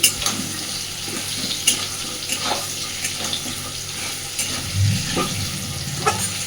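Potatoes frying in a pan, a steady close sizzle broken by occasional scraping stirs and clinks of the utensil, moderately loud, no talking.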